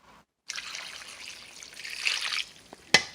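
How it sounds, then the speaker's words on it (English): Liquid trickles and splashes as it pours into a pot of clam chowder, a close, steady stream lasting about two seconds that ends with a sharp knock. "then I got to add another 4 cups of fluid into the pot with this fluid"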